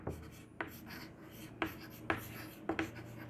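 Marker or chalk writing on a board during a biology lecture, a few quick scratching strokes in short bursts with pauses between, close and fairly quiet against a faint hum.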